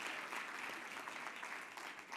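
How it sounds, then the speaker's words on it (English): Audience applause at The Big Pitch 2025 qualifier event in Johannesburg, a brief burst of continuous crowd clapping, moderately close and steady throughout with no pause. "Give yourselves a round of applause."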